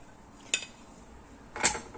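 Chicken pulao with chickpeas being served out of a cooking pot, with two quick metallic clinks of a spoon against the pot, one light and one louder, over a quiet kitchen background.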